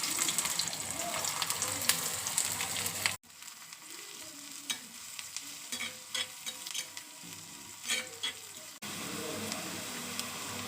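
Mustard seeds, urad dal and chopped onion frying in hot oil in a kadai, a steady close sizzle with stirring scrapes, then a quieter stretch of crackling pops before the full sizzle returns.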